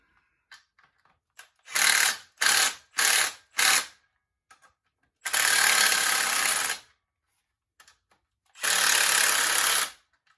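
A Precision Instruments torque wrench set to 65 foot-pounds ratchets up close: four quick clicking bursts, then two longer, steady runs of ratcheting separated by pauses with faint clicks.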